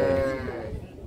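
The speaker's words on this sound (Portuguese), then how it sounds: "Esse é o gado do Zé Boadinho" Cattle low and moo at a bovine livestock fair in Monte Alegre, Sergipe, with one loud, sustained near moo that fades against a busy backdrop of other animals and crowd noise.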